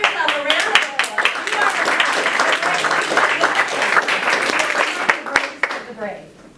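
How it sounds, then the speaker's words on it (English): Applause from a Toastmasters audience, dense clapping from many hands that carries on steadily and then thins out and fades near the end. "give yourself a round of applause"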